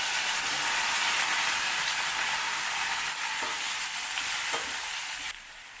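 Urad dal and chana dal tempering fry in hot oil, a steady loud sizzle that holds evenly for about five seconds and then drops off abruptly.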